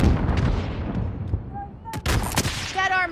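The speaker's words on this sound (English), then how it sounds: "Sending a rocket!" Rocket strikes and gunfire in Call of Duty: Warzone, heavy booming blasts with a rumbling tail and sharp cracks of shots, close and loud, with brief game voice callouts mixed in.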